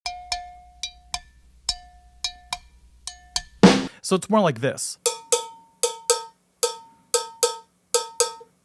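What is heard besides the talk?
cowbell choked, song pattern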